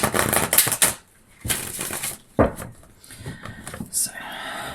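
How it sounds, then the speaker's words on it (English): A deck of tarot cards is shuffled in quick papery riffles and slaps, close and fairly loud, with soft rustling between bursts. "let's give it a shuffle first"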